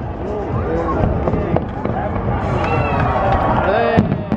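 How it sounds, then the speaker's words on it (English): New Year fireworks at the Burj Khalifa in Dubai, with continuous crackling bursts and a few sharp booms under loud crowd cheering and voices throughout. "We're gonna show a couple of shots from the fireworks from Burj Khalifa"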